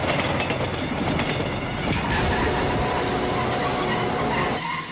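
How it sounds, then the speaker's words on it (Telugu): The Visakha Express departing from platform 3 rumbles loudly and continuously along the rails close by, with a dense rattle of wheels and no voices. "3వ ప్లాట్ఫామ్ మీద నుంచి బయలుదేరిన విశాఖ ఎక్స్ప్రెస్"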